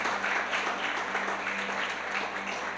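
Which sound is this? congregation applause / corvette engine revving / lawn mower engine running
congregation applause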